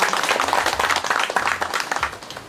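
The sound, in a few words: audience applause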